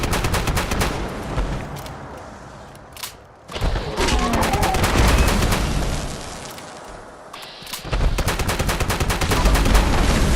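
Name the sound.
Cold Shoulder weapon firing rapidly in Fallout 76 (video game)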